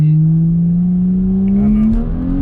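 A BMW E92 with an N55 engine on a stage 1 93-octane tune pulls hard, its exhaust drone climbing steadily in pitch as it revs up under acceleration, loud and close from inside the car.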